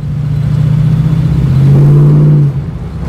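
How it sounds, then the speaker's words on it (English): A 1974 AMC Hornet engine idles with its throttle cable disconnected, a steady, loud, close low drone that rises slightly in pitch midway before settling back down, with no voices. "So I'm gonna adjust our idle with the cable off, and then we will readjust our cable accordingly."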